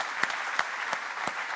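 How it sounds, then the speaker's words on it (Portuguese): Church congregation at a celebration service applauding the worship team, a steady wash of clapping with a few sharper claps standing out. "Vamos aplaudir essa turma maravilhosa aí"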